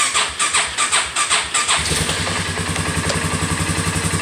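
A Polaris four-wheeler ATV engine being started: several rhythmic cranking pulses with a squealing starter, then the engine catches and settles into a steady, close, buzzing idle.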